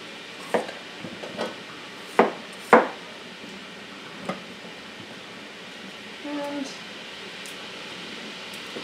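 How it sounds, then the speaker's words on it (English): A knife cuts peppers on a cutting board while making salsa, giving a few sparse, sharp knocks and taps in a quiet kitchen. "Here's a neat way to cut peppers that I've learned."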